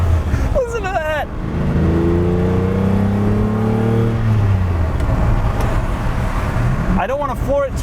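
A Lamborghini Countach engine revs up loudly and close by, its pitch climbing steadily and then easing off. Brief speech comes before and after the run on a wet day.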